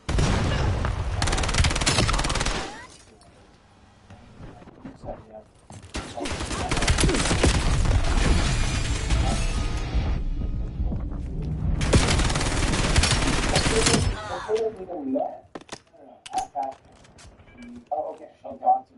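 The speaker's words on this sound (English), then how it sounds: "Enemy grenade." Intense bursts of gunfire and explosions in Call of Duty BO7, including an enemy grenade blast, arrive in heavy, loud stretches separated by brief lulls, with a voice speaking in the quieter gaps.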